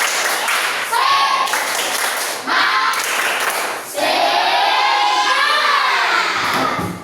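Schoolchildren in an Indonesian classroom repeat the tepuk semangat chant, clapping in rhythm while shouting together in loud, bright bursts, with the chorus swelling into a longer sustained cheer near the end.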